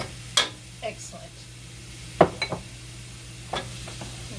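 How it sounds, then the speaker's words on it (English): Onions and garlic fry in a pan while a utensil stirs them, giving a few scraping, clinking strokes against the pan over a low, steady sizzle, close by. "Stir this up."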